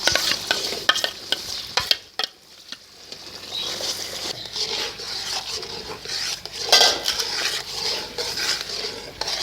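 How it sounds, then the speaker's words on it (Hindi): Semolina is stirred into a jaggery halwa mixture in a pan. A spoon scrapes and knocks against the metal in an uneven rhythm over a soft sizzle, with no voices. "अच्छी तरह इसको मिक्स करेंगे और गुठलियाँ नहीं बनने देनी है"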